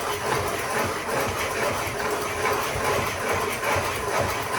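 A hand-cranked coffee grinder is turned steadily, giving a continuous, fairly loud grinding rumble with a faint repeating rhythm from the crank, and no voices.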